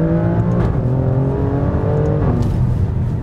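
An Alfa Romeo Stelvio Quadrifoglio in race mode, exhaust valves fully open, pulls hard on an open road with a loud, steady engine drone and rising revs heard from inside the car.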